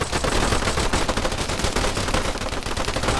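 Sustained automatic gunfire from several weapons roars continuously and densely in the ArmA 3 military game during a special forces raid on a cartel, loud and unbroken for the whole stretch.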